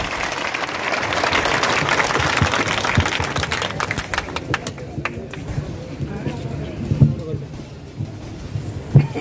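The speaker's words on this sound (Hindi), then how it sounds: "जोरदार तालियों से स्वागत किया जाए।" A rally crowd protesting India's 2019 citizenship amendment act applauds to welcome a speaker with dense, roaring clapping that peaks early. It then thins into scattered individual claps, with voices talking in the background.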